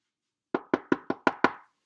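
Six firm knocks on a door come in an even, rapid rhythm, close and distinct, against silence.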